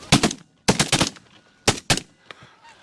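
Several sharp bursts of rapid gunfire at ducks in a duck-hunting video game, loud and close, separated by short pauses, with a faint trailing echo.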